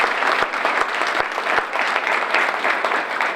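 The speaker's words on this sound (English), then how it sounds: "I think maybe I'll give them one more round of applause" Sustained applause fills an academic recognition ceremony, a dense, even wash of many hands clapping with a few sharper claps standing out early on.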